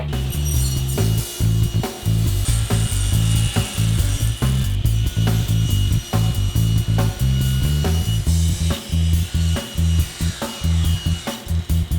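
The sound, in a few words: table saw cutting wood panel to length and width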